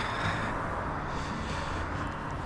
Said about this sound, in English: Excuse for the road noise